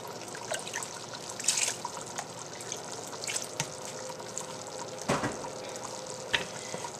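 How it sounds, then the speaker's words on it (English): Broth is ladled into a thick Japanese curry with a soft continuous trickle and dribble of liquid, broken by a few brief splashy pours and light clinks, close by and moderately quiet. "I think I'm going to actually add just a few ladles of broth."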